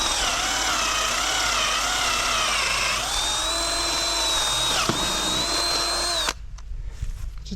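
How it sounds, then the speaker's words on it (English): A power drill turning a 1/2 inch spade bit whines loudly and steadily, its pitch sagging and recovering under load for several seconds before cutting off abruptly into quiet. "Just a 1/2 inch spade bit."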